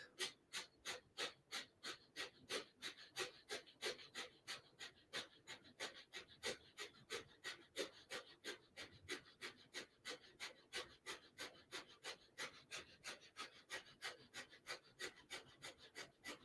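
Rapid rhythmic breath of fire yoga breathing, forceful nasal exhales in an even pulse of roughly two to three per second, sustained and close, quiet and breathy with no speech.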